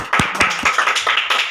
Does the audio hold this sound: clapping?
yes